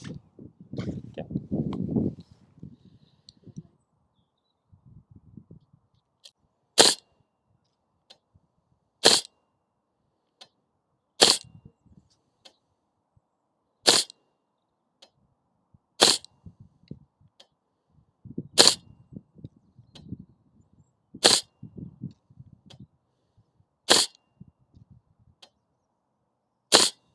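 An Archwick L119A2 airsoft rifle fires 0.36 gram BBs at a 40 metre target, giving about nine crisp, isolated snaps spaced a few seconds apart, with low murmured talk and rustling in between.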